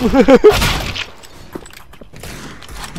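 Video game gunfire crackles in a rapid burst of shots at the start, followed by fainter scattered game sounds and a few softer hits.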